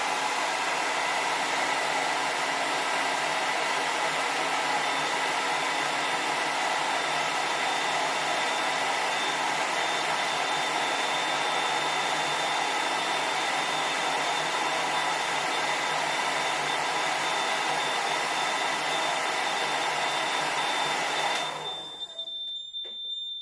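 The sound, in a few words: hairdryer heating a thermistor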